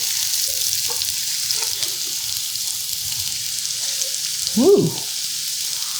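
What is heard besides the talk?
onions sautéing in a pan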